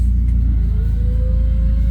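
A Citroën car's engine rumbles low and steady nearby on a street in Leiden, with a rising tone as it revs up and pulls away.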